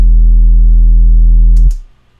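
Heavy 808 sub bass from an Ableton group rack, a fat sustained low tone with a little hiss on its tail, holding steady then cutting off with a brief noisy burst as it decays.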